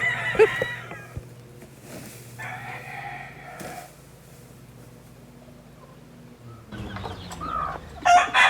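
Chickens on a farm, with a rooster crowing and hens clucking in short bursts near and far over a low background hum, loudest at the end.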